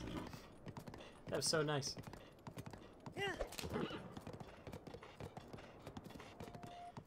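Hooves clip-clop in a steady rhythm as a horse is ridden in Breath of the Wild, while a person talks over the hoofbeats.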